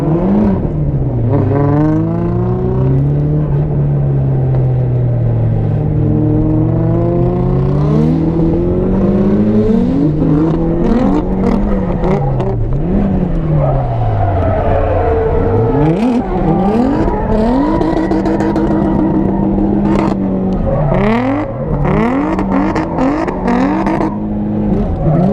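A Nissan S13 engine revs hard and repeatedly while drifting, rising and falling in pitch through throttle blips and downshifts, loud and close throughout with no talk.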